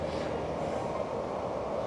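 An empty metro train running steadily, a continuous close rumble of wheels and carriage noise filling the whole stretch with no clear breaks.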